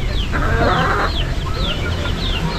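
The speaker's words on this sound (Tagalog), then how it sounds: "Papakain tayo ng mga manok" Several chickens cluck and squawk close by at feeding time, with short rising calls repeating over a low rumbling background.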